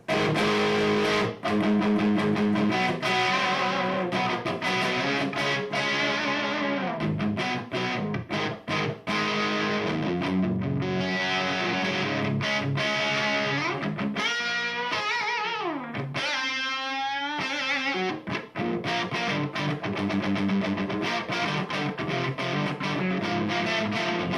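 Electric guitar played on the bridge pickup through a Jet City Picovalve EL34 tube amp at a medium-to-low gain setting, loud sustained chords and riffs with brief pauses, heard alone without talk.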